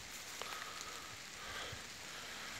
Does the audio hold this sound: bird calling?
no